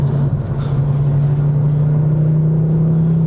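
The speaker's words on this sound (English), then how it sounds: "I've never been the biggest fan of 5-cylinder soundtracks, but they are growing on me." A Mk2 Ford Focus ST's five-cylinder engine accelerates with a loud, steady, rising drone and a strong low hum, heard from inside the car.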